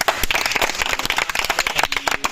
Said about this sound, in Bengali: সবাই তার জন্য একটা করতালি দিই